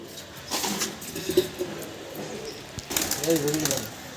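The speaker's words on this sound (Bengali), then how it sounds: "ধাড়ি পায়রা দেখায় আপনাদেরকে" Adult pigeons in a loft, soft low cooing calls in short bursts, close but quiet, mixed with a voice talking over them.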